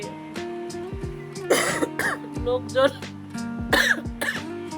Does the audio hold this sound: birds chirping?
no